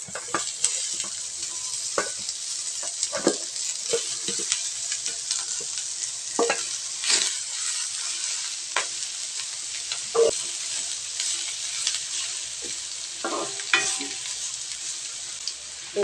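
Beef tendon stir-frying in a pan with onion and ginger, a steady loud sizzle running throughout, broken by repeated scrapes and clinks of a utensil stirring against the pan, no talking.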